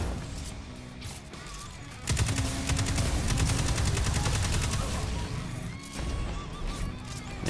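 Rapid energy-weapon fire from a gun in Destiny 2, a dense sustained burst of loud automatic shots over game ambience that eases off toward the end.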